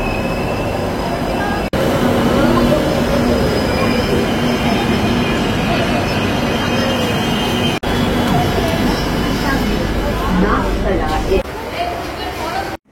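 A Kolkata metro train ride between Gitanjali and Girish Park stations: a loud continuous underground rumble of wheels and motors, with squealing wheels, a couple of abrupt cuts and a clunk near the end, and faint voices under the noise.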